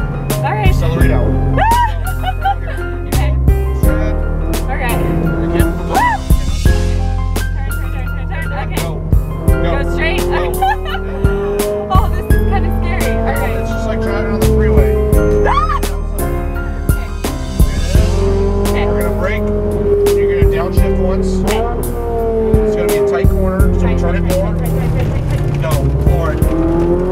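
A Ferrari 458 Italia engine revs and pulls hard out of a turn, its rising drone steady and close throughout, with an instructor talking over it.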